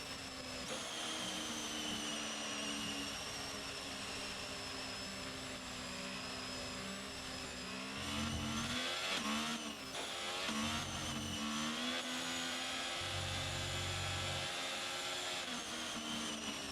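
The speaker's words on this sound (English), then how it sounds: "all the cars take their positions on the grid" Racing cars lined up on the starting grid at Silverstone for the British Grand Prix in the F1 22 video game: a steady droning of idling engines, with several surges of revving toward the end and no voices.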